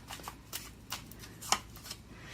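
Tarot cards riffled and shuffled by hand in a quiet room, a series of soft papery bursts with one sharper flick near the middle, close and fairly faint.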